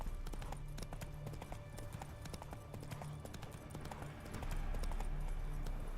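Roach, Geralt's horse in The Witcher 3, gallops in a steady stream of hoof clip-clops over a dense game backdrop, growing louder near the end.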